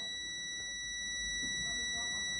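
A multimeter's continuity buzzer sounds while its probes touch a large coil inside a phone under repair, a steady high-pitched tone held throughout, with a voice talking faintly underneath.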